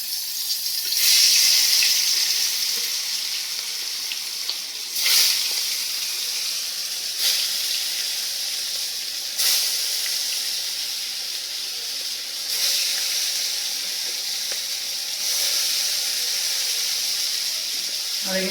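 Fish goes into hot oil in a kadai, producing a continuous hiss broken by loud, surging bursts of sizzle about every two to three seconds, close and fairly loud.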